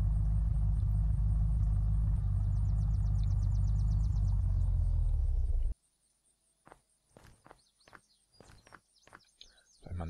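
A vehicle in the video game Unturned drives with a loud, steady low engine rumble that cuts off abruptly midway, followed by sparse clicks and bursts of ambient game sounds.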